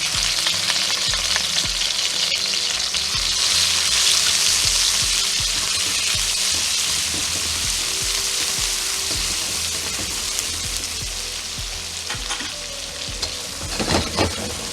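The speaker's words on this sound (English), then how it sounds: "Now the garlic is starting to toast from the garlic butter." Garlic toasting in garlic butter in a frying pan crackles with a loud, steady, close-up hiss, broken by occasional scrapes and clinks of stirring; no voices.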